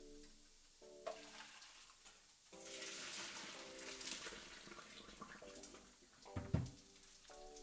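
Pasta water pours off as linguine drains into a strainer, a quiet, steady splashing hiss that swells in the middle, with a few clinks of kitchenware.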